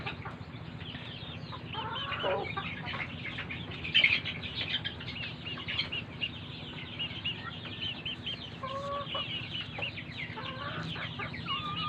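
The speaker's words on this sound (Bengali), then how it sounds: "এই যে এগুলো হচ্ছে গলা ছিলা মোরগ।" Naked neck roosters cluck and call steadily at close range in a coop, with a busy flock murmuring underneath and a brief flurry of flapping wings near the middle.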